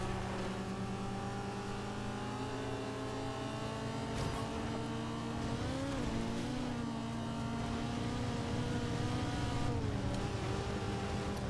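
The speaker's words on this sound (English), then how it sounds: "And that's an Evo 7, by the way, making that noise." Mitsubishi Evo 7 engine in the Forza Horizon 2 racing game, a steady close drone of a car at speed that swells and revs around the middle, continuous with no talk.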